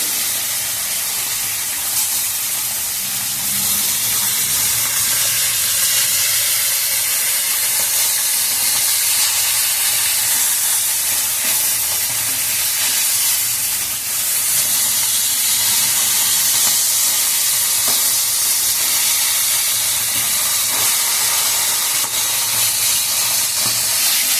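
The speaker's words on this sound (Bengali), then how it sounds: "লাল লাল করে মাছগুলোকে আমি ভেজে নেব" Tilapia fish pieces frying in hot oil, a steady loud sizzle and hiss that runs unbroken throughout, close up with no talking.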